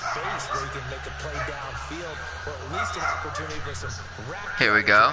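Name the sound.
dogs barking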